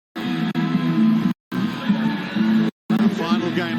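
A stadium crowd at the Edmonton rugby sevens between South Africa and Canada gives off a loud, steady roar and babble in three bursts separated by brief silent cuts.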